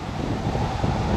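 Strong wind gusts buffet the microphone on an outdoor strawberry farm in a short, loud burst of rumbling wind noise.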